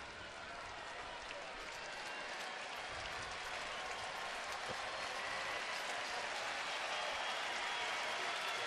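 A hometown baseball crowd applauding and cheering in a stadium during a Boston at Cleveland game, a sustained dense roar of clapping that swells slightly and holds loud throughout.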